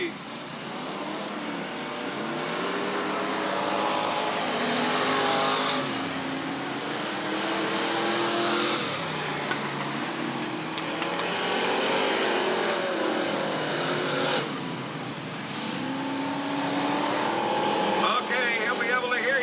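A race car circles the Southern Oregon Speedway, its engine sweeping past in rising and falling passes at moderate distance, while an announcer talks over the track noise almost throughout.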